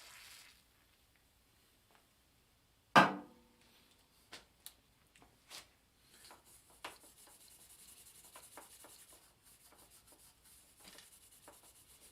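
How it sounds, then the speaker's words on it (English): Fine steel wool with WD-40 rubbed against a bicycle part during a neo-retro Shimano 9-speed build, heard as soft, scratchy scrubbing strokes after a sharp knock and a few light taps, quiet and close. "This is a real thin, a real fine steel wool and WD-40."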